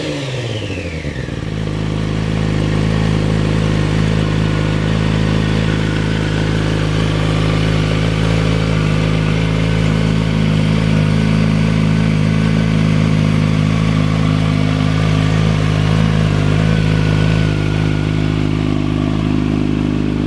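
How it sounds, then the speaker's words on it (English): A motorcycle fitted with a Remus exhaust runs steadily and loudly, its engine drone holding for about twenty seconds, with a rough rumble and light crackle on the overrun and no talking. "The Remus exhaust got a really nice sort of popping and spitting sound on the overrun"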